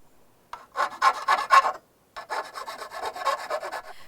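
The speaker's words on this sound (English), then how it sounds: "you're going to take your file and file them down nice and smooth" A hand file rasps along the sharp edges of cut aluminum pieces, close and loud, in a quick series of strokes, then a short pause and another run of strokes.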